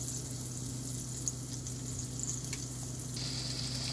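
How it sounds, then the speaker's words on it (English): Thin pork chops browning in a frying pan, giving a steady, even sizzle that runs throughout at moderate loudness, close by and with no talk over it. "Okay, our pork chops are starting to get brown, so we're going to get ready to turn them"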